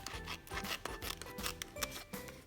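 Scissors cut apart Hello Kitty fabric pieces in a quiet, close rhythmic series of snipping and rubbing strokes, about four per second, with no talking.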